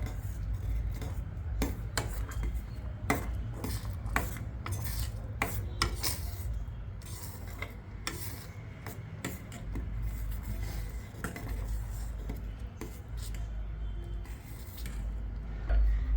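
Stirring white sauce in a pan after salt and pepper go in, for a mushroom cheese toast filling: a steady low scraping with repeated clinks of a spoon against metal, continuous and fairly quiet, with no talking.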